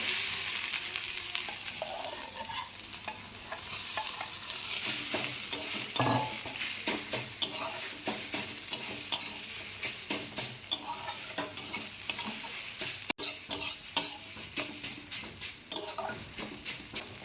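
Taro (mankochu) pieces stirred and fried in oil with dried chilli and nigella seeds, a steady sizzle with repeated scraping clinks of a spatula against the pan, close and without talk.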